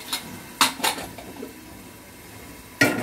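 A metal pressure cooker is set down on a kitchen stove, giving a few sharp metallic clanks: two close together near the start and one more after a quiet pause.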